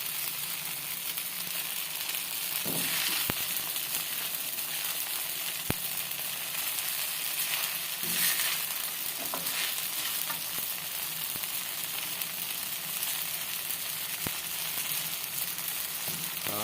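Rice vermicelli noodles are stir-fried in a home pan without soaking, giving a steady, close sizzling hiss throughout with occasional faint taps and stirring scrapes.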